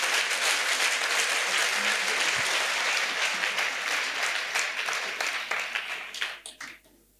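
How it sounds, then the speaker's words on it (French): A large congregation at an outdoor church crusade in Bafoussam applauds together in steady, dense clapping that carries loudly for several seconds, then thins into scattered claps and fades out. "Let's clap to Jesus Christ."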